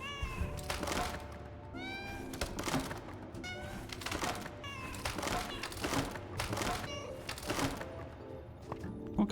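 Several cats in a video game meow again and again after being freed, the calls overlapping with quick clicky tapping and a busy game soundscape, fairly loud and close.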